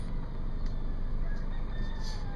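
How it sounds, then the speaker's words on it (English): Baby peacocks calling outdoors, faint high-pitched peeping cries scattered over a steady, noisy background hum, a few short calls spread across two seconds. "Just one more shot of baby peacocks"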